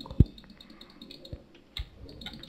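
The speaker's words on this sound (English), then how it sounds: "I can hear you clicking, little boy." Computer mouse or keyboard clicks come during a Terraria game session, a few sharp isolated taps scattered over a steady background hum with no talking.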